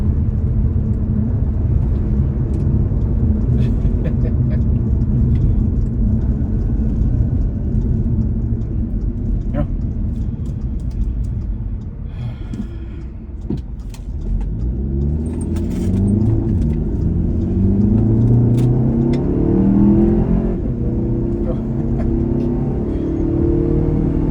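An Audi A3 with an S3 engine swap accelerates hard, heard from inside the car: a loud, continuous engine roar whose revs climb repeatedly through the gears in the second half, with road rumble underneath.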